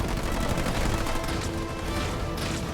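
Dense, sustained gunfire from Marines in the real-time strategy game Halo Wars 2 crackles in rapid overlapping bursts for about three seconds, loud and continuous with no talk.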